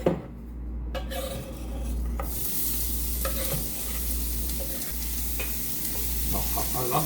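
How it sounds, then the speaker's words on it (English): Shallots sizzle in olive oil in a pan over low-medium heat, a steady close frying hiss broken by scraping stirring and utensil clicks against the pan, with a low hum underneath. "we're gonna put some olive oil in a pan. Turn on our heat. Nice, low, medium. We're gonna throw in our shallot."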